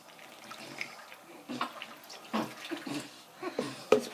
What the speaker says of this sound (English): Let's rinse your hair.